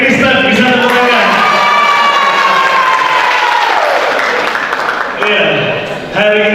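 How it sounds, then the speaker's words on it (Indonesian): Crowd at an interfaith youth commemoration in a Malang hall cheering and shouting loudly, with applause mixed in, a sustained roar of voices that dips briefly near the end before swelling again. "Rekan-rekan dari Konghucu bisa tepuk tangan."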